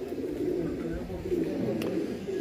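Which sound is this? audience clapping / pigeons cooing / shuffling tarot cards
pigeons cooing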